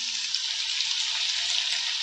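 Potatoes and spices with asafoetida fry in a pan, giving a steady, bright sizzle that holds evenly from start to finish with no voices.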